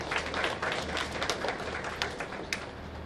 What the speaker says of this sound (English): please give your clap.